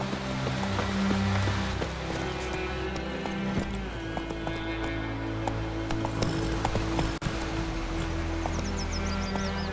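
Horse hooves clip-clopping at a steady gallop in The Witcher 3, the rhythmic thuds close and continuous under game ambience and music.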